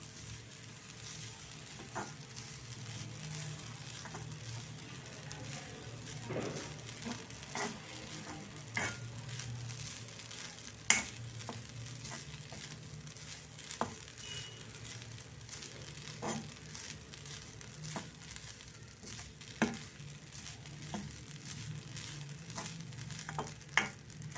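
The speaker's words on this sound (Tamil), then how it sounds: "இப்போ தேங்காய் பூ இதில் போட்டு நல்லா வந்து ஈரம் போக நல்லா ப்ரௌனாக வறுத்துக்கலாம்" Grated coconut dry-roasting in a pan until brown for sweet somas filling, a long steady sizzle broken by repeated scraping stirs and small crackles, close and moderately quiet, no speech.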